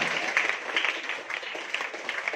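A group of school students at an Independence Day event claps steadily in rhythmic bursts, a close, lively round of applause with little talk over it.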